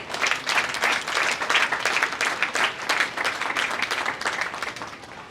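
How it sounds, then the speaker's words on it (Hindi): An audience at an Independence Day celebration held by a youth club in Banaras breaks into loud applause, a lively, dense clapping that swells in uneven waves before easing off toward the end. "इनके लिए जोरदार तालियां बजाएं।"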